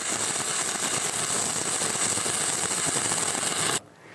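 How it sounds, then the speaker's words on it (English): Stick electrode arc welding rod burning in the flat position, a steady, loud, dense crackling hiss that runs on continuously, then cuts off abruptly just before the end. "Try to maintain a short arc gap and constant travel speed."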